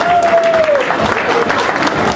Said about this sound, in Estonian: Palun veel kord aplaus naiste võitjale.